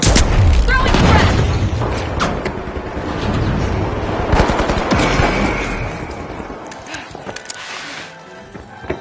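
A frag grenade explodes in the arena shooter The Finals, a loud boom among rapid gunfire and a busy game mix, with a commentator's voice over the action.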